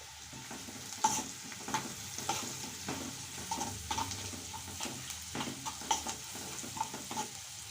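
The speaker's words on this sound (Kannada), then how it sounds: "ಸ್ವಲ್ಪ ಕರಿಬೇವು ಚೆನ್ನಾಗಿ ಫ್ರೈ ಮಾಡ್ಕೊಳ್ಳಿ." Curry leaves and onion with turmeric fry in a pan for a North Karnataka palya, a soft steady sizzle broken by repeated light scraping and stirring clicks from a spoon, fairly quiet, with no talking.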